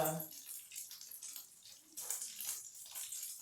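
Tap water running while fingers are rinsed at a kitchen sink, a faint, uneven splashing stream with a soft voice talking underneath.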